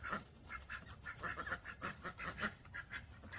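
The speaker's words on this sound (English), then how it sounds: "Ducks are not afraid of the dogs, and the dogs aren't afraid of them." Ducks quack repeatedly in a steady, rhythmic series of fairly faint calls with no talking, heard outdoors in the early morning where dogs are also kept.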